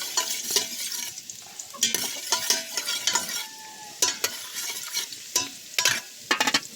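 Garlic fries in hot oil in a pan for chicken adobo in coconut milk, a loud crackling sizzle with bursts of stirring and scraping, close and continuous, with no voices.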